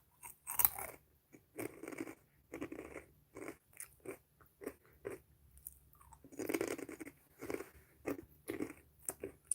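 Crunchy food being chewed up close, a run of irregular crisp bites and crunches repeating throughout, fairly quiet with no talking.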